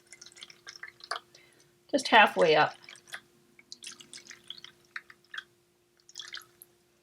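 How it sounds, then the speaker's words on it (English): Water pours and splashes briefly into empty loaf pans, a short burst in the middle, with a person talking quietly before and after. "I'm going to fill all these empties up"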